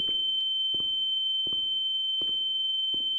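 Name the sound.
loud ringing tone in the video game The Town of Light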